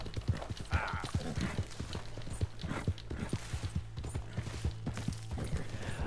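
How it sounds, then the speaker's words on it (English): Rhythmic galloping horse hooves in the Red Dead Redemption 2 video game, fast steady thuds with faint gear and tack rattles, close and continuous. "There's some sort of rhythm you can do while riding the horse."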